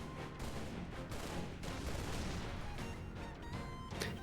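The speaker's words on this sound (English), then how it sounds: "I love how several gunfire sounds reverb." Gunfire in Halo Reach comes as dense, continuous bursts with long reverberant tails, steady and fairly faint, with no voices.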